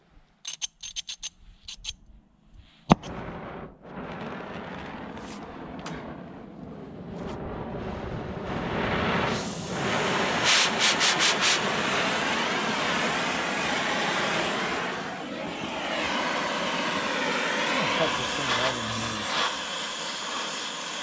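After a few clanks, a torch ignites with a sharp pop and then roars in a loud, continuous hissing rush, close by and steady for a long stretch.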